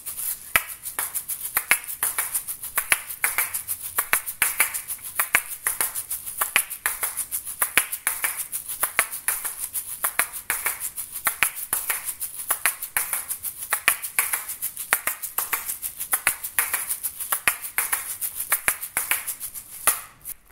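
Asalato (kass kass) shaker played solo in a fast, steady rhythm of crisp clicking and rattling strokes, the fourth pattern variation, close and bright with no talk.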